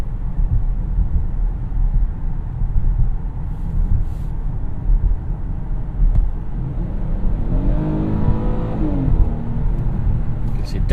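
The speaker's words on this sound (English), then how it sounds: "downshifts are a little bit more snappy when I shifted the drive mode over to sport." A 2017 Kia Cadenza in sport mode accelerates from inside the cabin, a steady engine rumble and road roar rising in pitch as it revs, with a voice talking over part of it.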